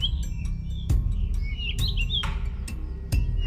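A parrot-like bird gives a run of bright chirps and short warbling calls over several seconds, close and clear, with a few soft thumps in the background.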